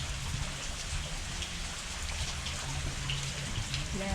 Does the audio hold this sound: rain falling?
yes